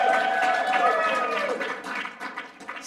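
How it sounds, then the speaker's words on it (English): Federationists and supporters in a hall cheer and clap together, a dense, steady wash of applause and voices that thins slightly toward the end. "You guys can cheer."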